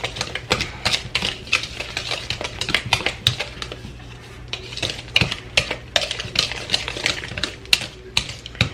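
A spoon stirs a blueberry lemon mixture in a bowl, making rapid, irregular clinks and taps against the sides at close range with no voices.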